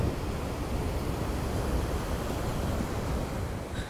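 Atlantic Ocean surf on a wide, nearly empty beach in Portugal, a steady broadband wash of waves with no pauses, heard alone without voices.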